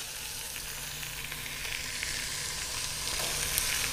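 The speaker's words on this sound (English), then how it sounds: "It's searing up very nicely." A roast sears in a pan from a Nutri Stahl cooking system, giving a continuous close hiss and crackle that holds even and steady throughout.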